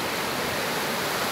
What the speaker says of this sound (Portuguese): Olha o barulho do mar.